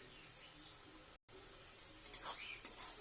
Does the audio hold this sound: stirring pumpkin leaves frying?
yes